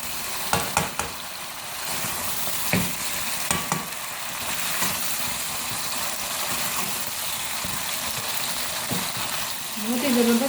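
Chicken and potatoes fry and sizzle over a medium flame in a pot while being stirred, with a steady hiss and scattered scraping knocks of the spoon, moderately loud and close.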